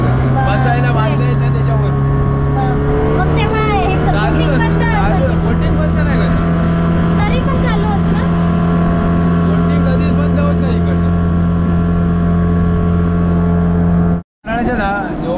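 Motor vehicles drive along the sand of Devbaug beach beside a resort, a steady engine drone with a low hum running loud and continuous throughout, with no speech over it until a brief cutout near the end.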